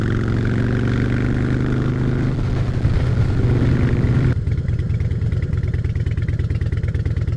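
A new motorcycle's engine runs steadily and close by, its low rumble shifting in pitch partway through as if revved or changing load, with no one talking.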